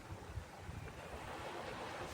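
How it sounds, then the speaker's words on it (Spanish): Gentle sea waves wash in a continuous soft hiss and rumble with slight swells, heard steady at a middle distance alongside light wind noise, with no voices. "Solo queda el sonido de las olas suaves"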